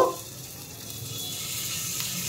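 Chicken pieces for an egg chicken roll fry in a pan with a quiet, steady sizzle that stays even and fairly faint throughout.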